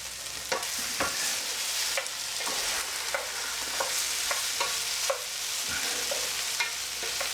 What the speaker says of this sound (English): Just searing this, guys, still. Just letting it sear.